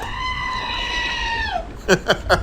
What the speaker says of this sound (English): that's our screaming goat, if you want to know what that sound effect is.